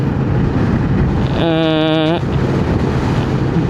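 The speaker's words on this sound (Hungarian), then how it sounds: "Fúj a szél, az elég keményen." A hard wind blows at Vestkapp on the Norwegian coast, a loud, steady rushing roar against the microphone, with a short voice-like tone cutting through in the middle.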